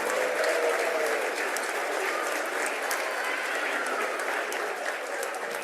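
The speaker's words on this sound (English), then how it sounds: "So one more round of applause to all the schools in the Green Schools Quest." Steady applause from a sizable audience at a green schools awards event, continuous dense clapping at an even level throughout with no pauses.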